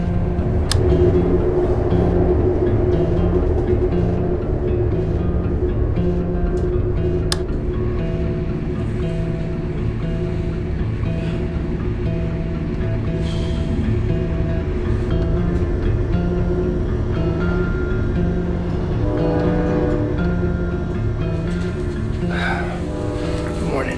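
Aboard a first-class overnight train from Rome to Sicily, a loud, steady low rumble with rhythmic rattling runs throughout, and a voice speaks over it.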